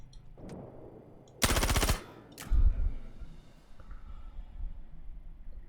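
Ship-mounted guns on a spacecraft in Star Citizen space combat fire a rapid, loud half-second burst of rattling shots. A shorter punch with a deep boom follows, then the guns drop back to a low engine hum.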